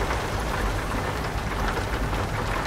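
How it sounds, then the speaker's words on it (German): Heavy rain in Euro Truck Simulator 2 hisses in a dense, steady wash, loud and unbroken, with a low rumble beneath that suggests thunder. "Laut OBS ist der Regen genauso laut wie ich."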